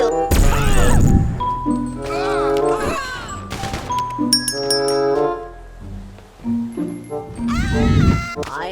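A video game cat meows and caterwauls repeatedly in loud, drawn-out cries over game music with chimes and crashes, and someone talks through parts of it.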